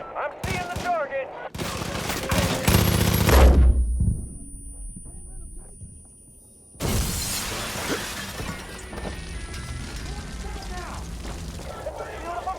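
Strafing gunfire in Far Cry 5 tears through in loud, dense bursts with a shattering, mechanical edge, cut by a sudden near-silent gap before the rattling fire resumes at length.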